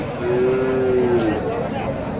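A cow gives a single drawn-out moo at a busy cattle market where heifers and Gir and Sahiwal cattle are sold, the low call rising clearly above steady crowd chatter.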